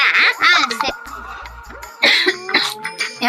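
Several harsh, close coughs break up in bursts from a person with a fever, mixed with throat clearing and a brief voice.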